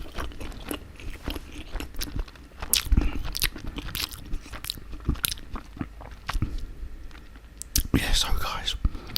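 Close, crisp bites and chewing of a big cheesy pizza come in uneven bursts, mixed with soft whispered talk.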